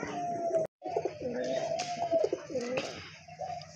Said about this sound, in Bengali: এখানে কিন্তু আরেক জোড়া কবুতর দেখতে পাচ্ছেন